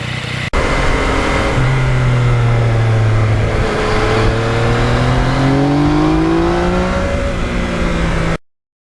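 A 2020 Yamaha MT-09 motorcycle engine drones loud and close while riding, its pitch rising and falling smoothly through gear changes over steady wind noise, ending abruptly.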